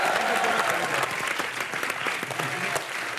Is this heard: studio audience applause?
yes